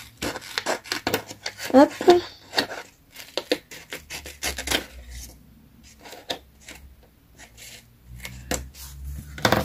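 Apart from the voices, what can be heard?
cutting very thin paper, finishing with scissors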